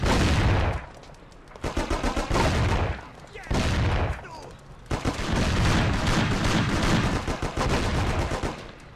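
Gunfire in the video game Mafia comes as loud rapid bursts of shots and fusillades, separated by short gaps.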